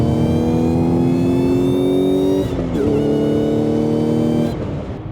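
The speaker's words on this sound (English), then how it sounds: "The power band pulls all the way to redline, making it a lot more engaging to do this." An Audi S5's engine revving hard toward redline, loud and close. A strong rising tone climbs steadily, breaks briefly at a gear change, then climbs again until it drops off near the end.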